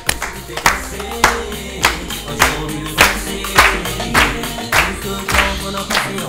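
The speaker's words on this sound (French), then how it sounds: "on applaudit pour accueillir Macris" A crowd applauds to welcome the performer Macris onto a stage, with loud hand claps landing in a steady rhythmic beat roughly twice per second, close and punchy, sustained over a busy background.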